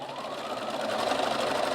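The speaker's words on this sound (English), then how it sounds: "Just sew a couple and back stitch them" Close, steady whir of a sewing machine stitching a quilt, running continuously and evenly throughout with no pauses.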